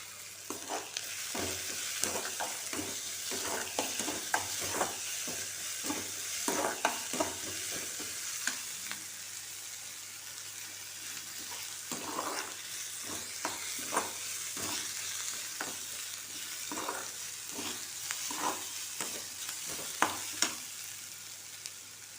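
Ginger garlic paste and curry leaves fry in a pan for vada curry, with a steady sizzle broken by frequent, rhythmic spatula scrapes and taps close by, and no talking.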